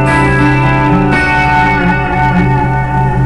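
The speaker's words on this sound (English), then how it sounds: "I can go from a real crunchy sound to a really nice pretty chorusy" A sustained distorted electric guitar chord through an amp simulator rings out, thick and buzzy, with a few notes shifting briefly before it settles and holds.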